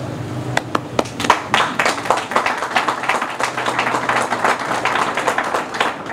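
Audience clapping at the opening of the newly renovated South Olive Tennis Center in West Palm Beach, a scattered, moderately loud round of applause with sharp individual claps that builds and sustains for several seconds, without talk over it.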